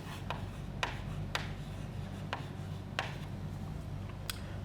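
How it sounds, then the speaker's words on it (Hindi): A short note written by hand on a board or paper during a physics lesson: faint, brief scratchy strokes at an uneven pace over a quiet low background hum, with no speech. "एक छोटा पॉइंट मैं लिख रहा हूं इस जगह पे"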